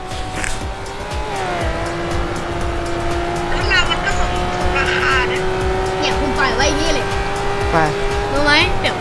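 Cars racing in the Roblox game Car Crushers 2, a steady engine whine rising and holding pitch with chirping tire squeals and bursts of game effects, while players chatter over it.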